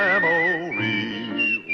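A person whistles a short melodic phrase from a Western television theme song, clear and close, gliding between sustained notes with no other sound.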